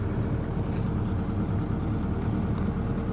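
A liquid ice melt sprayer with broadcast nozzles running over a commercial parking lot for snow removal, giving a steady, loud, close engine and pump drone with no breaks.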